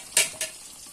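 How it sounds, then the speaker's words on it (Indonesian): Chicken frying in a home kitchen pan, with two short bursts of hiss and sizzle standing out above a steady low background of cooking noise. "Ayamnya tak goreng iki"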